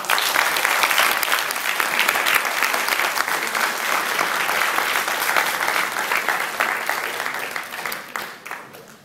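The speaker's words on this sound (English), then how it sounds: "a big round of applause for our district government" Sustained audience applause at a club officers' training session for a district government, dense steady clapping from a crowd that holds for several seconds and begins to thin toward the end.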